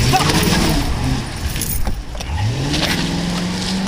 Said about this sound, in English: she took off with the car